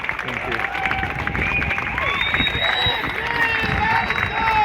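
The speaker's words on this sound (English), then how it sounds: "Give yourselves a huge round of applause for being part of this marvellous movement." A rally crowd at a free Gaza gathering claps and cheers loudly and continuously, with whoops and shouted voices riding over dense applause close by.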